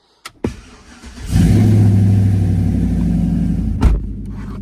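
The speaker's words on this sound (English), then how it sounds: "we need to go ahead and crank the truck up" A couple of clicks, then a truck engine cranks briefly and catches, settling into a loud, steady low idle close by.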